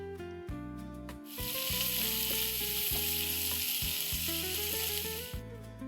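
After about a second, a loud, steady sizzle of chopped onion hitting hot oil for chicken stew, with a repeating background tune playing throughout.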